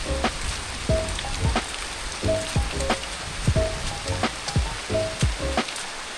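Rain patters steadily on a mountain hiking trail, a close, continuous hiss with scattered drops, overlaid by repeated short chirping calls.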